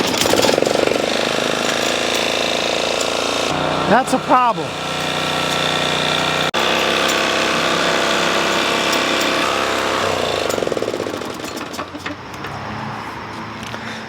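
A Toro Timemaster lawn mower engine with a bad head gasket runs loud and rough up close, a steady churning drone with irregular knocks and a brief pitch swoop, while someone talks over it.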